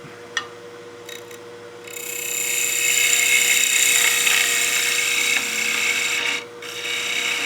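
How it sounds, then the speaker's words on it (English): A wood lathe turns a snowman oil candle as a skew chisel slices across the spinning hat, giving a steady whirring, hissing cut that swells loud and continuous for several seconds, then briefly drops away before resuming. "So we'll use that skew to give us a good slicing cut."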